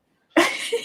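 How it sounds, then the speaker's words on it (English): A single short cough bursts out suddenly after silence, close and fairly loud, with a brief trailing catch of breath. "You're coughing"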